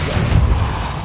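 A Depulso spell in Hogwarts Legacy goes off as a loud, dense low rumble with broadband crackle, sustained and booming through about a second with no spoken voice over it.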